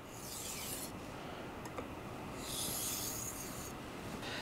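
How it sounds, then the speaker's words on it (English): A knife edge is stropped against a ceramic sharpening rod to clean up the burr, giving two soft, close scraping passes separated by a brief pause, quiet and without any talking. "we're gonna try to clean up that burr now with our stropping motion"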